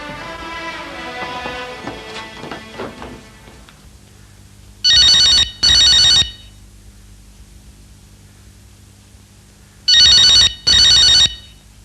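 A telephone rings twice in a classic PTV drama, each ring a loud, close, buzzing double burst, with a pause between the pairs and quiet background music before the first.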